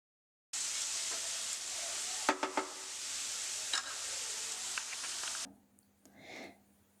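Samosa filling with ginger and green chili sizzling steadily in a pan, a broad close hiss with a few scraping stirs, ending abruptly as the heat drops to a faint simmer.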